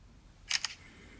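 A camera shutter fires while a selfie is taken: two quick, crisp clicks close together, close and fairly loud, over a quiet room.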